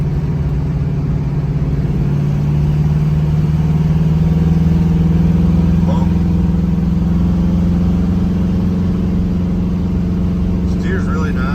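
A 1968 Camaro RS with a ZZ4 350 V8 and FiTech fuel injection drives along. The engine drones loudly and steadily from inside the car, its pitch slowly rising, with faint interior rattles.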